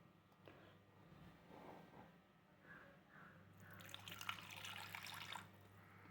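Tamarind water pours and splashes into a pan of sardine curry preparation, a faint trickle at first that swells into a louder bubbling splash for a couple of seconds before easing off.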